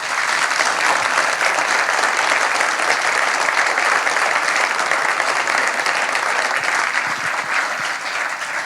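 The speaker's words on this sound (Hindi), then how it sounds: "एक बार उनके सम्मान में मैं चाहता हूं आप सब तालियां बजा दें" Loud, sustained applause from a large audience honoring soldiers during a live interview event with a Hindi lyricist, dense steady clapping filling the whole stretch without any talk.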